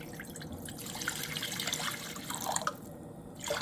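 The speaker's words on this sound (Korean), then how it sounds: "물을 먼저 부어요." Water poured into a frying pan for tteokbokki, a continuous splashing trickle with small drips, fairly quiet and close, with no talking.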